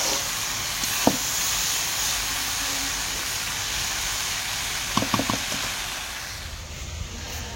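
Vegetables fry in a pan with a steady, loud hiss and sizzle throughout, broken by a couple of brief clinks near the start and middle, with no one talking.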